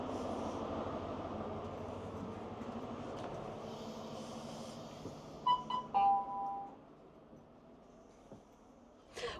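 Interior of a moving ScotRail HST with Mark III coaches en route to Aberdeen, a steady low rumble and rolling hum throughout, with a couple of brief chime-like tones partway through and a soft knock near the end.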